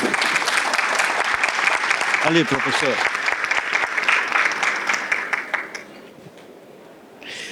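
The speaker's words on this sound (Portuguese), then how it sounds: "uma salva de palmas" Audience applause for a guest professor at a corporate review event, dense clapping over a voice calling out, then fading toward the end as a few claps linger.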